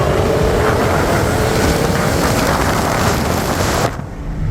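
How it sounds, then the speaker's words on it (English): A Cadillac Escalade-V's supercharged V8 accelerates in a loud, sustained, roaring engine note heard from outside the SUV, steady for several seconds before cutting off abruptly. "let you take a listen. We'll compare these engines."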